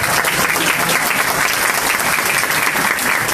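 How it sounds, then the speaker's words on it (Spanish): A Perú Libre political party audience at a 2020 election review event in Peru claps in loud, steady applause that fills the whole moment. "Un fuerte aplauso."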